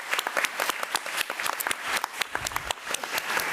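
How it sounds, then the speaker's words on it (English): An audience at a school board meeting applauds a student, a lively burst of many hands clapping at moderate level, sharp individual claps standing out from the steady patter. "So let's give Christian another round of applause."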